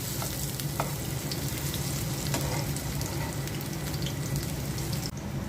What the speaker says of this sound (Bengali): বেগুনিও ভেজে নিচ্ছি